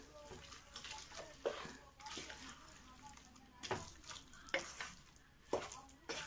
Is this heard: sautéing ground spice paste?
yes